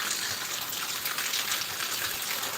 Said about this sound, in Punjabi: ਪਿਛਲੇ 20 ਮਿੰਟਾਂ ਤੋਂ ਮੀਂਹ ਪੈ ਰਿਹਾ